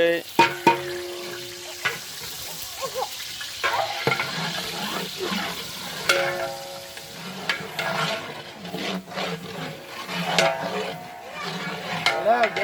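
Tomato, mint and ginger fry in a pan for tomato rice, a busy sizzle with repeated stirring scrapes and utensil knocks, and faint voices now and then in the background.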